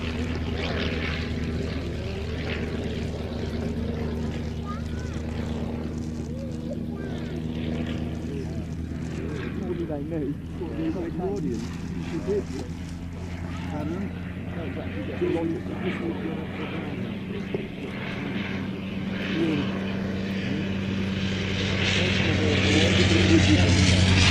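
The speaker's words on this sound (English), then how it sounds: "we see a solo by one of Avy Rowe's most outstanding creations, derived from the Avro 500 of 1912" A vintage Avro propeller aircraft, derived from the Avro 500 of 1912, flies a solo display at Shuttleworth; its engine drones steadily throughout, with someone commentator speaking over it.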